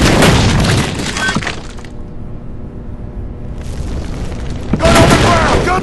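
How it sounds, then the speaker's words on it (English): A grenade explodes in the video game TimeShift with a loud, long booming blast and breaking debris that fades into a low rumble before another burst at the end. "Watch out, grenade!"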